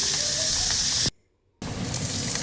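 Onions sautéing in oil with mustard seeds and curry leaves in a kadai, a steady close hiss and sizzle that cuts out briefly midway, then resumes at full strength.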